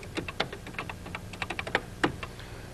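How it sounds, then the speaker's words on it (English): Brisk typing on a computer keyboard, a quick run of sharp key clicks in an uneven rhythm, fairly close and alone with no voices. "if I type in Space Shuttle"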